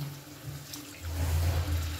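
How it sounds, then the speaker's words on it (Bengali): Rinse water from a yogurt bowl is poured into a pan of spiced potato curry, a short close splashing pour that swells in the second half, with no talking. "এবারে ওই দইয়ের বাটি ধোয়া জলটা আমি এর মধ্যে দিয়ে দিচ্ছি, আর সামান্য একটুখানি জল দেব"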